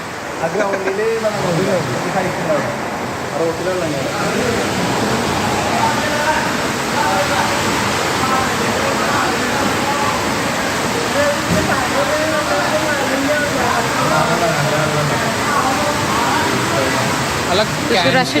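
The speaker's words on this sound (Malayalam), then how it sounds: "തൃശ്ശൂർ അശ്വിനി ആശുപത്രിയിൽ അടക്കം വെള്ളം കയറിയ ദൃശ്യങ്ങളൊക്കെ നിങ്ങൾ കണ്ടിട്ടുണ്ടാവും" Floodwater rushing through Ashwini hospital in Thrissur, a loud, continuous broadband roar of flowing water that stays steady from start to finish with no breaks.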